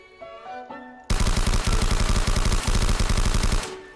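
Sustained rapid automatic gunfire in the video game Garry's Mod, a loud close burst of evenly spaced shots rattling for about two and a half seconds before cutting off, following a quieter musical passage.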